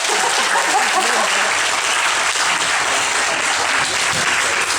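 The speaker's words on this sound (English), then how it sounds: "let's give her one more round of applause" Lords and ladies in the crowd at an animal show give a loud, sustained round of applause, a thick and even roar of many hands clapping throughout.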